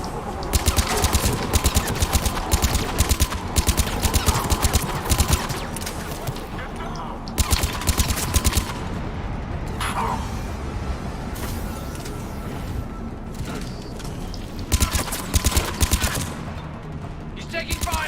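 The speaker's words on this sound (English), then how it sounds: "He's taking fire." Rapid bursts of automatic gunfire during a Mass Effect 3 battle, loud and sustained with repeated rattling volleys and brief lulls, mixed with voices talking over the combat.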